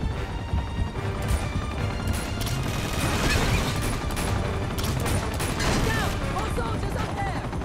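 Gunfire in the video game Uncharted 2: Among Thieves, dense bursts of shots and crashes in a busy action scene, with a voice and game music running underneath.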